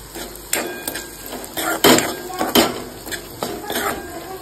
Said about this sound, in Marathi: आता परत चमचा वाजवायचा